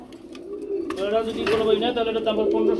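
A pair of running gear chuli pigeons coo close by in a Bengali pigeon market. Their soft, throaty cooing rolls in repeated bursts, with faint background chatter and rustling.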